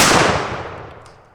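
A single loud blast from a Panzer AR12 shotgun firing a 1 ounce slug, sharp and close, then a fading rumble as it dies away.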